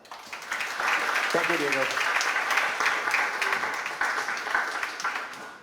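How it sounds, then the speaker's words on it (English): An audience applauds panelists at a blockchain talk, a broad continuous clapping wash that swells and holds, with a person briefly speaking over it near the start. "Please give them a huge round of applause."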